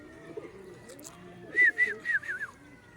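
A pet pigeon named Purple gives a short series of soft, warbling calls, three or four quick bursts close by against a quiet background with faint ambient noise.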